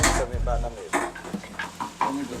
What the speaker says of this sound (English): He's basting it.